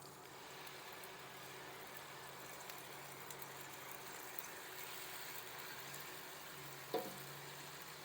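Onion frying in hot vegetable oil, a faint, steady sizzle with a soft crackle running throughout, one brief clatter near the end.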